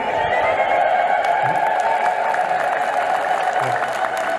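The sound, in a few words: congregation ululating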